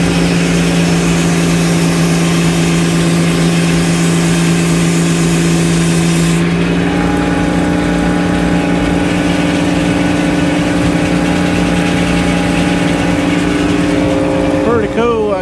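A Frick sawmill fitted with a different blade cuts pine boards, giving a loud, continuous droning whine whose pitch shifts about halfway through, with brief warbling tones near the end.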